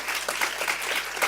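Audience applause for an illustrator at a press illustration and opinion festival event, a steady patter of clapping from a crowd filling the short moment without any talk.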